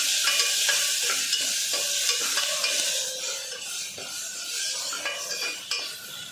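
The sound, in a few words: stirring ginger garlic paste frying in pan for goat leg soup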